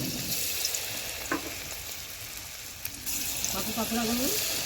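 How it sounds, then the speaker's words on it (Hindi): Marinated pieces coated in besan batter fry in hot oil with a steady close sizzle and bubbling, a couple of light utensil knocks, and faint background voices. "एबे तेल गरम होला पकई दिया"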